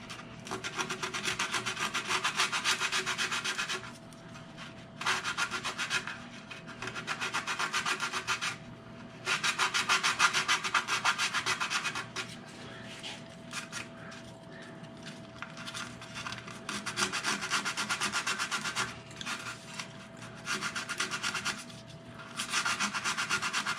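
Guitar side braces being sanded by hand with 80 grit sandpaper, a close, rasping wood-rubbing sound in rhythmic bursts of strokes, separated by short quieter pauses under a faint steady background hum.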